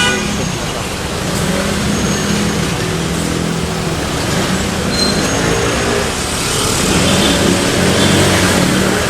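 Busy daytime road traffic in Malabon, a dense steady wash of engines and passing vehicles close by, with occasional horn toots mixed in.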